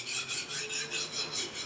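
A knife edge rasps across the highest-grit whetstone to form a microbevel on a Japanese knife, in quick, even back-and-forth strokes, about eight in under two seconds, close and clear with no talk.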